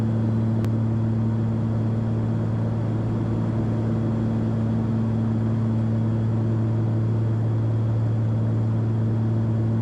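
Steady engine drone from a Cessna 340 twin on low approach fills the cabin, a loud continuous hum with strong low tones and no change in pitch, alone without talk.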